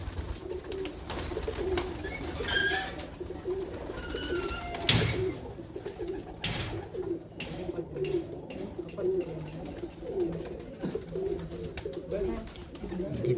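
A high-flying pigeon coos in a loft, repeated low throaty calls rising and falling close by against quiet background rustling and a few sharp knocks.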